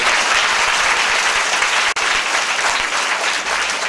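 Audience applause at a spiritual discourse gathering in Uttar Pradesh, a loud, thick wall of clapping from a large crowd that stays constant throughout, broken only by a momentary dropout near the middle.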